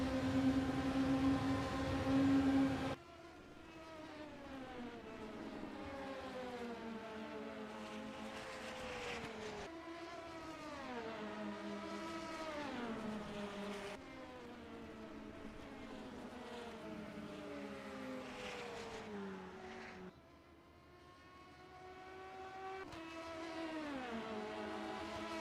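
Sim-racing engines in a virtual 12-hour Le Mans endurance race, prototype cars roaring continuously, pitch rising and falling through gear changes across several passes, loud and clear with no talk over them.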